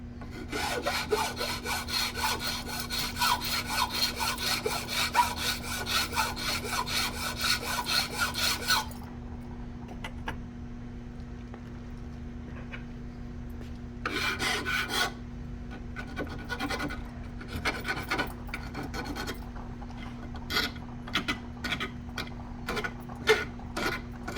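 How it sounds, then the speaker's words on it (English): Hand file rasping across a metal switch bracket clamped in a vise, steady rapid back-and-forth strokes in a continuous burst, then a pause and shorter separate bursts of strokes, close and fairly loud with no talking. "in the vise, and we restart with the file."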